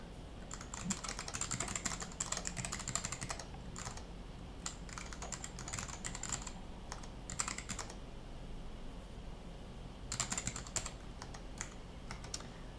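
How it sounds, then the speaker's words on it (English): Someone types on a computer keyboard in quick, uneven bursts of clicking keystrokes separated by short pauses, close and fairly quiet, with no talking. "I'll also just type this out."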